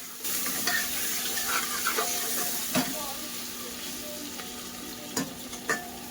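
Onion frying in oil in a pan, a steady, moderate sizzle with occasional light clicks and scrapes of a utensil against the pan.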